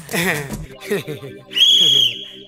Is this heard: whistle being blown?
yes